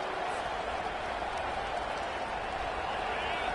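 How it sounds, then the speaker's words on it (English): Loud, dense crowd roar fills a college football stadium, a steady wall of cheering and noise with no break, welcoming the visiting team. "This crowd bringing an ear-splitting welcome to their visitors"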